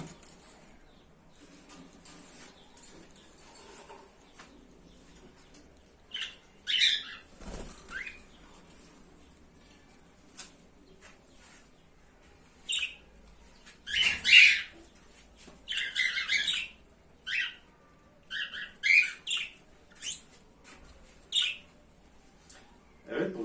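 Budgerigars, male and female pairs, in a cage give scattered sharp chirps and squawks, several short bursts spread across a quiet, faintly humming background.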